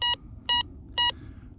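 A Bounty Hunter Tracker Pro metal detector beeping on its own while held still at too high a sensitivity, three identical sharp electronic beeps at an even pace, close and clear.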